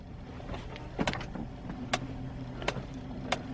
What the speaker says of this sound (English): when I'm loaded and the truck sort of does that steady bounce, it goes click, click